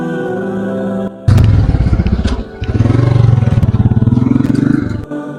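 Motorcycle engine running close by, idling then revving in loud, pulsing bursts with a brief dip between, cutting back to a lower idle at the end.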